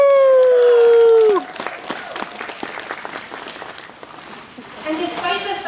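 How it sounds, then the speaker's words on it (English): Audience applause at a dolphin show at the Vancouver Aquarium, a broad crowd clatter rising after a voice with a whistle-like tone, sustained at moderate level with scattered cheers. "we should give them a round of applause"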